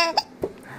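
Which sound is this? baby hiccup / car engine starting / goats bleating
baby hiccup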